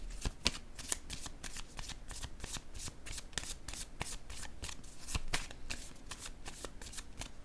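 Tarot cards shuffled by hand in a rapid, steady series of crisp riffling flicks, close and fairly quiet, with no talking over them.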